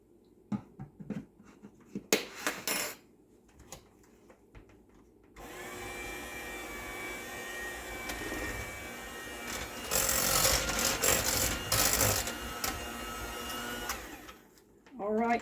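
An electric hand mixer whirs through cake frosting after vanilla is added, for a coconut cake: a steady motor drone that rises louder toward the end, preceded by brief clatter and a voice.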